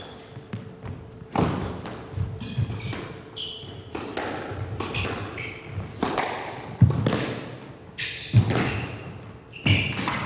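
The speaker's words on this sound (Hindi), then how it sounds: "इस ड्राइव शॉट जो फ्रंट से खेली, बहुत ही खूबसूरत शॉट तैयब असलम" A squash ball is struck in a professional match at the GFS Karachi Open between Shahjahan Khan and Tayyab Aslam. Sharp hollow thuds and cracks of ball on racket and wall ring out irregularly in a reverberant court over crowd murmur.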